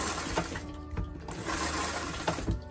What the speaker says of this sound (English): you just want to do a few test flushes and make sure you don't have any leaks anywhere